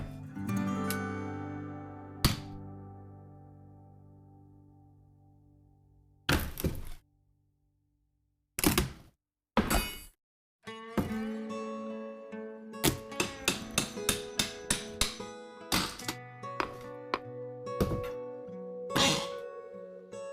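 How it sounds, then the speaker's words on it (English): Solid hardwood floor boards being nailed into place on the tongue side: sharp, resonant hammer blows ring out singly with long pauses, then come in a quicker run of close strikes later on. "if you are nailing solid hardwood down, you'll be nailing into the tongue side, not the groove side"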